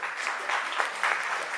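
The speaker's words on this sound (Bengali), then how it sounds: "একটি হাততালি দেবেন।" Audience applause for Jebur Chowdhury at an Udichi community event at a school in New York, a steady wash of clapping from a moderately distant crowd lasting the whole short moment.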